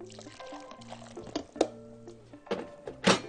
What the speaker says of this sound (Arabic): ونقوم واخدين عندنا شويه ميه صغيرين